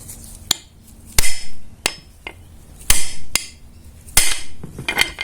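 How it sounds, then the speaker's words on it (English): Sharp metallic hammer taps on the gasket edge of a 1988 Suzuki GSX-R750 clutch cover, about nine irregularly spaced strikes, some ringing briefly, close up with quiet pauses between. "when you hit with a hammer the edge of the gasket surface of the clutch cover"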